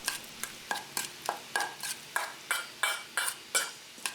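Oyster oil, cooking wine and olive oil being stirred together in a bowl for steamed golden pompano, a steady run of about a dozen soft, rhythmic utensil scrapes and clinks, close and fairly quiet, with no talking.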